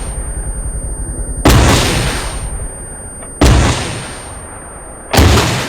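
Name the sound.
rocket artillery launch in video game Arma 3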